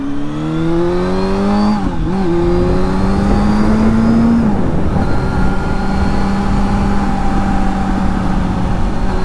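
A Honda Hornet 600 motorcycle ridden on smooth asphalt hums with a loud, steady engine note that climbs, dips around gear changes and then settles into an even drone.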